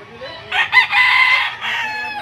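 A rooster crows loudly and close by, one long drawn-out call at a farm.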